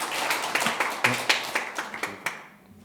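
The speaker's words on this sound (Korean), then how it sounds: "여러분 큰 박수 부탁드릴게요." Applause from a seated audience at a Korean National Assembly suicide-prevention policy forum, with distinct claps from a few nearby hands standing out over a moderate crowd clapping that thins and fades out by the end.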